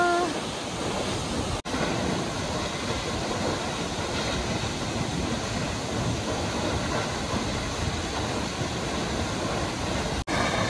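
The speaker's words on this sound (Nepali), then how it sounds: "अब यो झरनाको मिठो आवाजसँगै हामी पनि फर्किनु छ" The FungFuge waterfall on the Mikwa Khola in Taplejung roars as a steady, loud, broadband rush of falling water. It continues unbroken for the whole stretch with no voices over it.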